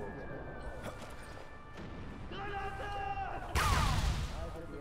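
A grenade goes off in Sniper Elite V2, a sudden loud broadband blast near the end with a rumbling, crashing tail, following a quieter stretch of game ambience and musical tones.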